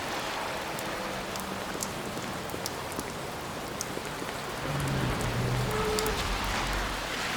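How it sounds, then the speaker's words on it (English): Heavy rain hisses steadily in the Overclocked video game, a broad continuous downpour with scattered sharper drop impacts, a low rumble swelling in near the end. "It's raining cats and dogs."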